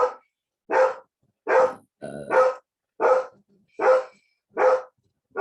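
A female dog barks about eight times in a steady rhythm, each bark loud, close and separated by short silences. A brief different sound breaks in partway through.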